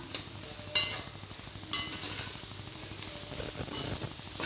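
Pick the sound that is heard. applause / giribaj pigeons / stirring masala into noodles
stirring masala into noodles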